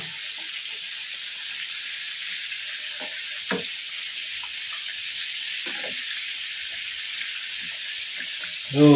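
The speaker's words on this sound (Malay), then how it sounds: "Kita terus masukkan dia dekat kuali yang dah disiapkan" Steady oil sizzle from chicken frying in a wok fills the whole stretch, with scattered clinks and scrapes from stirring and a louder clatter at the very end.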